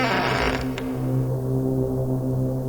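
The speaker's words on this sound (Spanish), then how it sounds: "Solo la puerta de la carroza al abrirse." A carriage door creaks open on a hacienda at night with a drawn-out mechanical groan, followed by a steady low hum that lingers alone with no voices.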